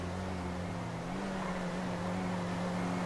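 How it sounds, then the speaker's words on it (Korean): Car engine in the video game GTA5, a steady, close droning hum with a slight rise in pitch partway through, holding at an even loudness. "어, 차 소리가 좀 크게 들리죠?"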